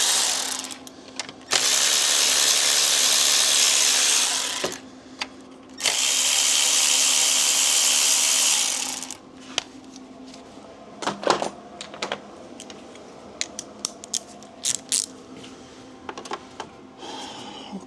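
Power tool buzzing twice in loud bursts of a few seconds each while ignition coils and bolts are removed from a 2011-2017 Toyota Sienna engine, followed by scattered clicks and metallic taps of handling parts.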